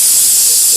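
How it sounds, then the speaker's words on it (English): An air compressor in a garage during a leveling kit install on a 2017 Ram 2500, letting out a loud, steady burst of hissing air close by. "Sorry for that loud noise. Compressor."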